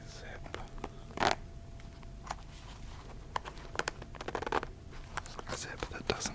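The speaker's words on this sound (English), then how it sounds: "A zip that doesn't make good sounds." A zip being drawn along a plain fabric pencil case at a desk, close and quiet, heard as a few short scratchy pulls and clicks spread over several seconds amid soft rustling and whispery handling noise.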